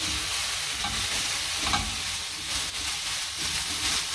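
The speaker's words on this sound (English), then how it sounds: "So, all we're going to do now is just cook out all those spices. Making sure we're sauteing all lovely vegetables." Vegetables and spices for mulligatawny soup sautéing in a pan, a loud continuous close sizzle with scraping stirring sounds mixed in, no talking.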